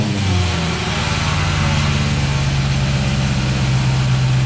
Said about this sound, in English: this fan shroud has a crack in it, and you hear the fan blades are hitting the shroud